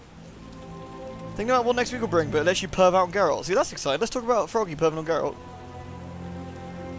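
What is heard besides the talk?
heavy rain downpour in video game The Witcher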